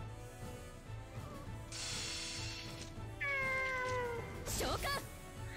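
A cat meows repeatedly in the video game Nights of Azure, a series of clear drawn-out mews near the end, over steady game music and mechanical clicking sounds.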